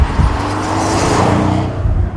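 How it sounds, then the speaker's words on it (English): Pagani Huayra hypercar engine with deliberately tuned turbocharger noise, a loud, steady, close drone of engine and turbo whoosh that holds for about two seconds, then eases off near the end. "It's the first kind of turbocharged car that I've driven that has got deliberately tuned turbocharger noise"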